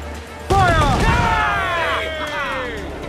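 Pirate ship cannons in Assassin's Creed 4: Black Flag let loose a broadside, a sudden heavy boom followed by a long rumbling, crackling tail, with shouting voices over it.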